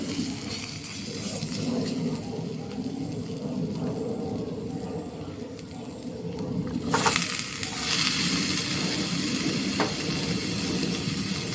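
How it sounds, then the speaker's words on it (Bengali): Cut pumpkin pieces sizzle and fry in hot oil with cooked spice paste for a prawn dish, a dense, close, continuous crackle that swells louder midway as the pumpkin goes into the pan and is stirred. "এখন কেটে রাখা মিষ্টি কুমড়ো দিয়ে দেবো।"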